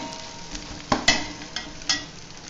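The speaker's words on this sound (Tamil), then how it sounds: "இப்போ பச்சை மிளகாய் ஆட் பண்ணிக்கலாம். இது நல்லா வதக்கி விட்டுக்கலாம்." Green chilies sautéed with mint and coriander in oil for a large biryani: a low, steady sizzle with a few crisp spatula knocks and scrapes against the pot, heard up close with no talking.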